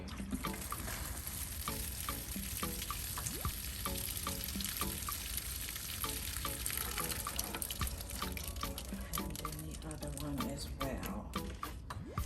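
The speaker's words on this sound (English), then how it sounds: "I am going to give them a nice drink of water." A steady stream of water splashes and trickles into the soil of potted blueberry plants, continuous and close, with faint speech in the background.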